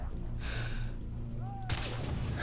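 A single sharp gunshot in the video game Far Cry 3 cracks out near the end of the clip, following a quieter stretch of in-game ambience.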